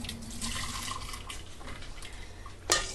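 A ladle dipped into liquid chai concentrate, with soft trickling and sloshing and faint drips, ending in a brief bright clink.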